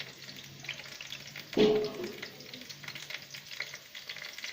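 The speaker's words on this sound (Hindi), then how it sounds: "प्याज को अच्छे तरीके से भूनना है" Chopped onions frying in hot oil give off a quiet, steady sizzle, with one brief louder burst of stirring or scraping partway through.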